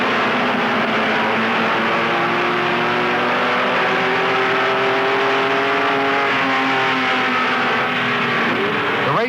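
Race cars at the start of a 1974 IMSA race at Daytona speedway in light drizzle, a loud dense engine roar with several rising and shifting engine pitches overlapping throughout, no voices.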